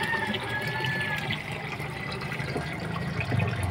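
Water gushes steadily from an aquarium water pump fitted with an elbow pipe aimed downward, a continuous close rushing and splashing with no talk.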